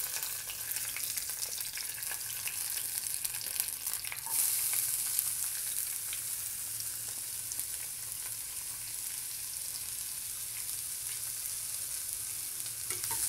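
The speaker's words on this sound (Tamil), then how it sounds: "நல்லா வதக்குங்க." Onions and green chillies sautéing in a pan for Tamil-style prawn masala, a steady close sizzle with faint stirring scrapes running throughout, no voices.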